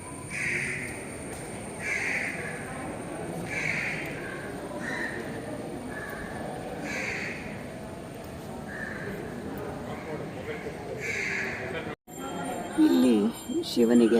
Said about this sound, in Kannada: ಕಾಗೆಗಳು